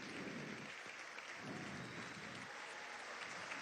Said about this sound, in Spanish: Continúan los aplausos a esta hora desde el Teatro Municipal de la ciudad de Caracas